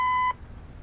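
A single steady electronic answering-machine beep at a residence, loud and clean for about a third of a second, then cutting off to quiet room tone.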